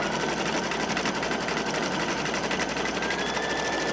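An embroidery machine stitching a zippered pouch in the hoop gives a fast, steady, mechanical needle rattle, close and continuous, with no talk.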